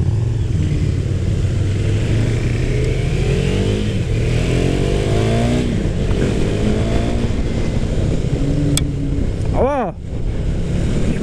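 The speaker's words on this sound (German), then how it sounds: "Ein Einzylinder, der bis 12 dreht? Fett." A 2017 KTM 390 Duke single-cylinder motorcycle revs hard on the road, its buzzing engine note rising and falling under heavy wind roar, with a brief rapid pitch wobble near the end.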